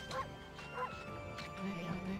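A small dog in the video game Okami gives a few short yips and barks, with game sound effects and a person talking over them.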